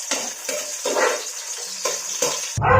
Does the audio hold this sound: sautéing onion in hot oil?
yes